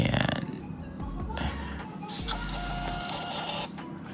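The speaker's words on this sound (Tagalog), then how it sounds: "Try natin i-print." Small printer printing a WiFi voucher, a close mechanical whirring and stepping feed lasting a few seconds with brief pauses and clicks.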